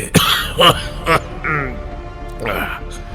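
A man coughs several times in short, harsh bursts, close and fairly loud, with a throaty clearing sound between them.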